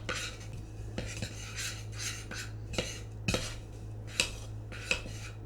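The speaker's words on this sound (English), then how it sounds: "so we're just going to stir that together" A utensil stirs keto pumpkin cheesecake mixture in a bowl, giving scattered clinks and scrapes against the dish at an irregular pace over a steady low hum, with no one speaking.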